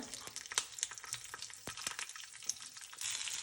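Curry leaves and green chilies fry in hot oil in a pan, crackling and spitting in sharp irregular pops over a soft steady sizzle, close and fairly quiet.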